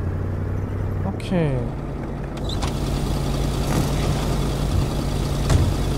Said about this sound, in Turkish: Araba niye o kadar çok ses yapıyor? Bu eski arabalardan birisi.